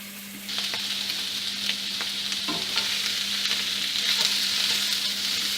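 Food frying in olive oil in a pan while being stirred, a steady bright sizzle with a low hum and occasional scraping clicks of the utensil, close and continuous.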